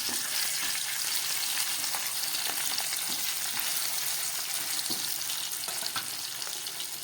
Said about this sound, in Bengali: মাছগুলো একটু হালকা ভাজা করব, মাছটা বেশি কড়া ভাজা করব না।